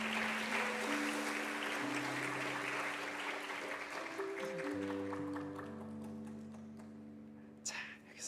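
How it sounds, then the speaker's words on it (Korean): A church congregation applauds in encouragement during a Sunday afternoon service, steady soft clapping over sustained organ or keyboard chords, trailing off near the end. "권사님 앞으로 나오실 때 격려의 박수 한번 보내주세요"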